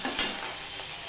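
Chopped ginger and green chili frying in oil with panch phoron and a little turmeric for Bengali pui saak, a brief close, steady sizzle with a quick stir at the start.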